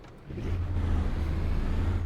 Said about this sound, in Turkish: Egzoz sesini duydum